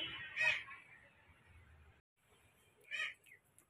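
Ducks on a backyard poultry setup give two loud nasal honking calls, the second after a short pause, heard fairly close with faint background noise and no talk.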